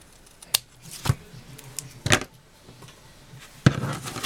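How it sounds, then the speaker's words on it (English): Scissors snip away excess paper while a handmade sympathy card is being assembled, a few sharp separate cuts spaced irregularly with quiet handling between them, close and fairly soft. "Just grab a pair of scissors here and trim my extra off."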